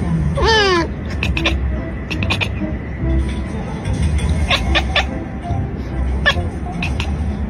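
A single rising cat meow sounds near the start, followed by scattered clicks and taps, with a person talking steadily throughout.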